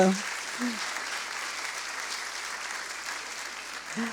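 A church audience at a Christmas celebration applauds children after their performance, even continuous clapping at moderate level, with brief voice fragments at the start and end.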